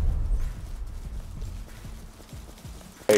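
Rapid hoof clip-clops of horses in the video game Rust trot past at moderate distance, steady and rhythmic, ending with a brief sharp noise.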